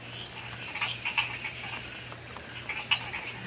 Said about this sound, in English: There are more sort of squealish sounds, more like a pig squealing. That is a yellow tree frog